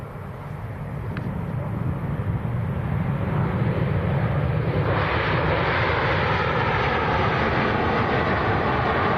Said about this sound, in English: the Falcon 900 is taxiing out.